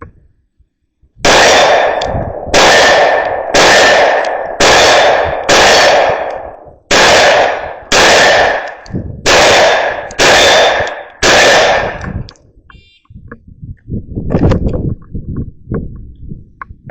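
Ten pistol shots from a Springfield Armory Operator 9mm ring off a steel IPSC target at 40 yards, each a loud crack with a metallic clang, spaced about a second apart. Softer rustling and handling noise follow the last shot.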